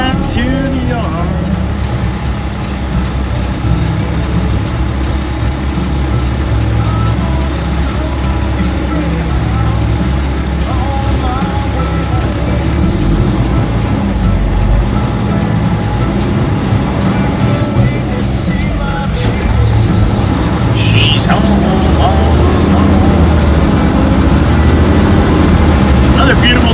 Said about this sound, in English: I'm on a slow-moving Peterbilt, heading back to the yard.